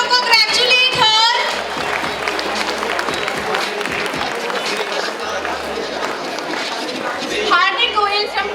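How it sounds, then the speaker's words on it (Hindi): Audience clapping and cheering for an award winner at a college event, a steady crowd applause filling the whole stretch, with an announcer's voice rising over it at the start and end. "Guys, तालियां बजा दो, congratulate her."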